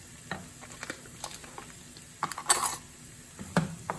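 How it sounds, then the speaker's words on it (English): Garlic is stirred in a pan while preparing TVP tacos, with scattered scraping and clicking of a utensil against the pan over a faint sizzle and a louder cluster of scrapes partway through. "So we're just going to stir this in and just kind of cook it for just about 2 minutes"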